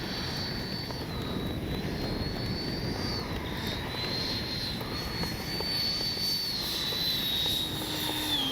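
A Freewing 90mm F-4 Phantom II RC jet comes in to land, its ducted-fan whine a high, wavering tone over a steady airy rush, heard alone at moderate distance.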